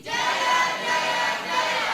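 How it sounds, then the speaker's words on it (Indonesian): A crowd at Sakyakirti University in Palembang shouts a university cheer chant in unison, loud and close, filling the whole brief burst with massed voices. "Ini yel-yel kebanggaan di Universitas Sakyakirti."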